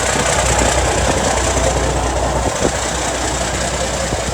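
A Mack R Model truck engine runs through a 5-inch stainless exhaust stack, a steady, loud, broadband rumble with a low throb and no talk over it.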